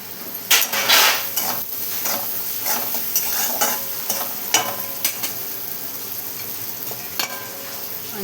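Steady stirring and scraping of cauliflower, cabbage, potato and green chilies in a sizzling pan with salt, with sharp spoon-on-pan clacks at irregular intervals over a continuous frying hiss, close and fairly loud, no talking.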